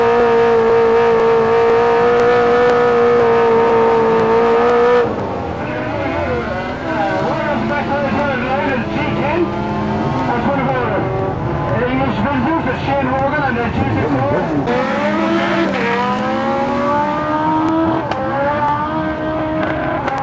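BMW K1300 motorcycles at a drag race in Cork rev hard, their engine notes rising and falling in gliding pitch under a loud public-address announcer who talks almost throughout.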